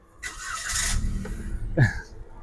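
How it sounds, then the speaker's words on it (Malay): A Perodua Axia's engine cranks and catches, a short whirring start followed by a low rumble and a brief rising rev, close by. "Start engine."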